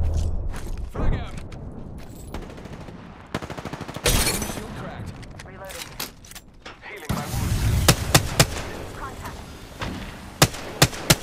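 A frag grenade bursts in Apex Legends amid busy gunfire, with loud sharp blasts and crackling shots through the middle and sharp pops near the end, under a talking voice.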